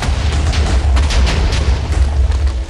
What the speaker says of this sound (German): Wow, das war eine heftige Explosion.